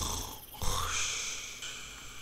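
Snoring from a sleeping creature in Minecraft, a single drawn-out breathy snore that swells and fades, fairly close with soft background noise and no talk.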